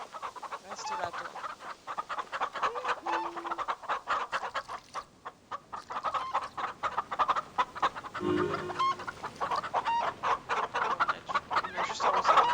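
Chickens cluck repeatedly in Star Stable Online, a steady farmyard chatter of fowl calls running throughout at moderate level, with a lower rooster-like call near the middle.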